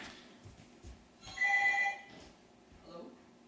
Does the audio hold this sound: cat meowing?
no